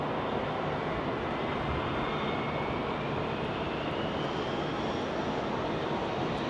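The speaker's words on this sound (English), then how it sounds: "Rob Walker, VS 412 is an A330-900 neo" Airbus A330-900neo jet at London Heathrow, a loud, continuous broadband engine roar with a faint rising whine, steady throughout with no speech.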